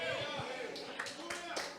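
Congregation clapping in a church service, a scattered patter of hands under a voice speaking over it.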